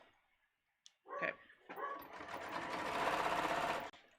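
A sewing machine runs in a steady rapid whir for a few seconds after a couple of soft clicks, close and fairly quiet.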